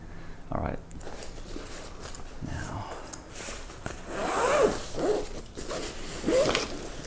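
A zipper pulled open on a new Fender Japan bass guitar case in short, scratchy runs, close and moderately loud, with a handling rustle between pulls.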